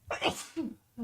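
A single sharp sneeze bursts out close by during a relaxed podcast conversation, followed by a brief breathy aftersound and a low vocal murmur.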